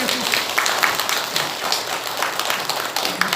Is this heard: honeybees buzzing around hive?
no